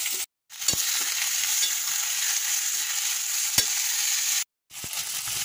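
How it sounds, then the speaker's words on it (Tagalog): Meat fries with ginger, garlic and onion in a hot pan, producing a loud, dense, continuous sizzle with occasional sharp utensil taps and two brief dropouts. "Ipapry ko na po ng konti ang ating meat."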